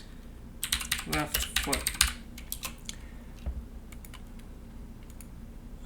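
Quick bursts of typing on a computer keyboard, close and clear, come in clusters during Photoshop work, with a few spaced keystrokes afterwards and a voice speaking briefly between them.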